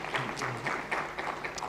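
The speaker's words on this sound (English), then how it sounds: "Rene, round of applause, please." Clapping from the audience at a trade and investment forum, a moderate burst of many hands with uneven pulses, with a faint voice or tone briefly underneath.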